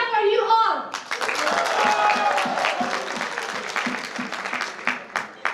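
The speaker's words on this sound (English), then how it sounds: "Give a big clap for you all." An audience claps at a formal function, a dense, steady round of applause lasting several seconds after a brief burst of other sound at the start.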